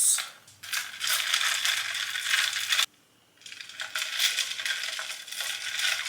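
Ice being added to an iced coconut milk drink gives two long bursts of clattering, crunchy rattling, broken by a brief near-silent gap, with no talk.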